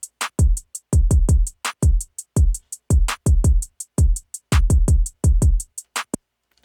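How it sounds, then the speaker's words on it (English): A drum beat of deep booming kick clusters topped by a steady run of crisp, evenly spaced hi-hat ticks in a basic two-step pattern, with occasional sharper accents; loud, close and heard alone without talking. "I just added some hi-hats and just your basic two-step hi-hats."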